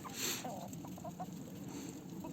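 Soft clucking from a group of chickens being fed, with a few short calls over a steady rustling farmyard background.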